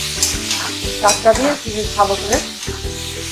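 Spinach and mixed vegetables for a Bengali curry are stirred in a hot pan, a steady sizzle broken by repeated scraping strokes of the spoon, close and clear, with a brief voice speaking over it.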